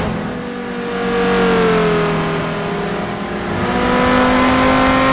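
A Porsche race car engine in the GTR2 racing game drones loudly and close, its pitch dipping and then climbing again as it revs through the gears, with no voices.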